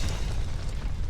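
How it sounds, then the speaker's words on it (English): A muffled explosion in the Aviary Attorney video game, as if just outside, heard as a dense low boom and rumble that holds steady and moderately loud for about a second with no talk. "An explosion. Sounded like it came from right outside."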